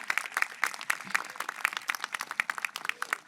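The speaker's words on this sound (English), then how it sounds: "Let's give our staff and all honored guests a round of applause." Audience applause at a high school commencement ceremony, with many people clapping in a lively, uneven patter of distinct hand claps at moderate loudness and no speech.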